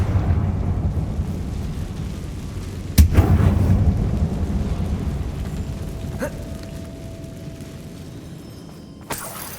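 Confringo spell blasts erupt inside a closed mine in Hogwarts Legacy: a sharp loud crack around three seconds in, a long rumbling decay, then a fainter pop and another sharp hit near the end, with no talk.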